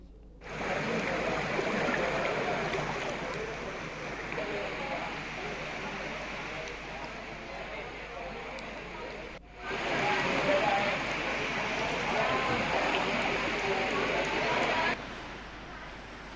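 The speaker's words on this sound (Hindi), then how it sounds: "तेज बारिश से नालों में उफान आ गया है" Heavy rain pours in Dehradun as drains overflow, a dense, steady roar of falling water and rushing runoff that holds loud and constant, briefly dropping out before resuming.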